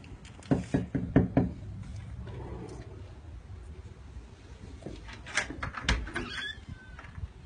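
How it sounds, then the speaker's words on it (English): A run of sharp knocks on a door, about five quick raps close together near the start, then a couple more knocks later, over a quiet room background. "somebody at the door"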